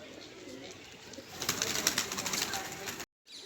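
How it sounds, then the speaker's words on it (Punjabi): A pigeon, newly arrived among kept pigeons, coos in repeated soft throaty calls at close range over steady outdoor background noise, ending in a brief moment of silence. "ਬਈ ਕਬੂਤਰ ਆ ਗਿਆ ਨਵਾਂ"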